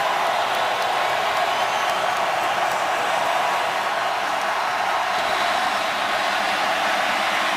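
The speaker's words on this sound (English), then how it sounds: "Saints at home, and this crowd noise love to come after you." Steady, dense roar of a home crowd at the Saints' stadium during a 2012 NFL game against the Eagles, a loud continuous wash of noise with no clear breaks, filling the whole stretch.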